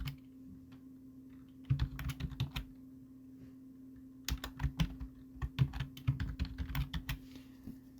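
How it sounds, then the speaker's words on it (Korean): Computer keyboard typing while entering text in graphics software for a GTQ exam exercise: two bursts of quick, close key clicks, a short run early and a longer run later, with a quiet pause between and no talking. "그 다음에 글자 입력할게요"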